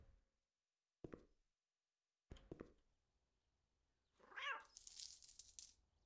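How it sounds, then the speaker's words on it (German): A cat in the Cafe Owner Simulator video game gives a couple of short, quiet meows, then a louder drawn-out meow that rises into a bright, noisy yowl. "Ey, Katze."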